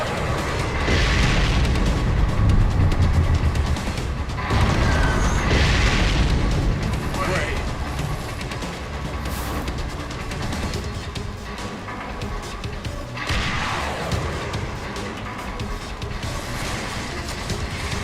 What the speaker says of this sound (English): We seem to be witnessing a firefight on the perimeter of the White House.